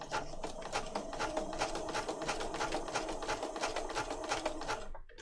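A sewing machine runs a zigzag stitch on a junk journal page, a fast, even, mechanical chatter of needle strokes close by that holds steady for about five seconds and then stops short.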